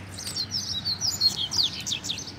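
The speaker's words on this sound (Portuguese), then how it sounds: "Ó a fibra desses passarinhos, galera, ó." Coleiro (double-collared seedeater) songbirds sing a fast run of high, sweet chirps and warbled phrases, close and clear over a low background hum.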